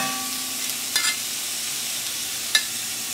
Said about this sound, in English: we're going to take this bacon, spread it around in the pan a little bit, and cook it the same way